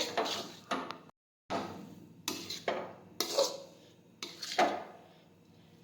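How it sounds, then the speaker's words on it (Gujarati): Wheat ponk mixture being stirred in a pan, giving bursts of scraping and knocking of a spoon against the pan, several strokes with a short silent gap, close and fairly clear. "આવી રીતે ફેરવતા રહેવાનું છે."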